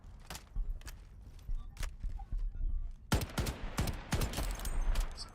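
Bursts of gunfire from the shooter game Shatterline, scattered single shots early then a rapid cluster of sharp reports, some near and some more distant, with light footstep-like taps between.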